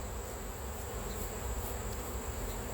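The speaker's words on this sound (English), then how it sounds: "Get all the bees off of it, and I'll bring it over and I'll put it in the box." Honey bees swarm over a hive frame being cleared during a honey harvest, a steady close buzzing hum that holds evenly throughout with no talk.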